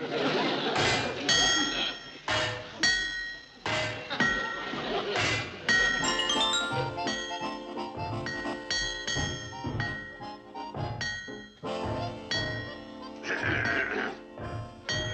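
Repeated ringing metallic clangs and bangs of hammers on metal locomotive parts, irregular and echoing, with voices speaking underneath at times.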